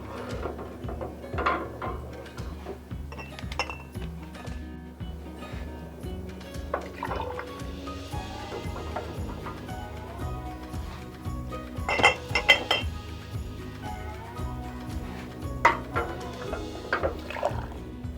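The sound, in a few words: glass jars placed in hot water for sterilizing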